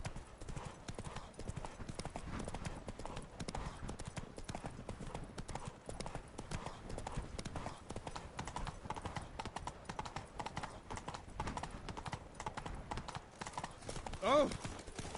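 Horse hooves clip-clop steadily in The Witcher 3 as a rapid, even stream of footfalls. A brief whinny is heard near the end.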